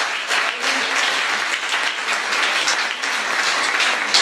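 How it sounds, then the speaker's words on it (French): An audience at a bilingual church conference claps for themselves, a dense, even wash of applause that holds steady from start to finish. "So clap for yourself."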